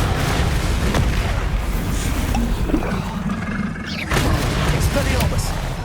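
Confringo spell explosions from Hogwarts Legacy's goblin battle, as dense booming blasts rolling over one another with a sharp burst near the end, amid constant loud combat noise and shouted spell names.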